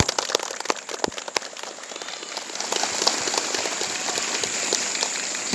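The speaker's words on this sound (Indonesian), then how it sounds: "Kepada pengurus OSIS baru, kita beri tepuk tangan yang meriah." Hearty applause from the audience at a school student council installation ceremony at SMP Negeri 1 Suela for the 2024-2025 term. Dense, crackling clapping fills the room and swells louder partway through, with no talk over it.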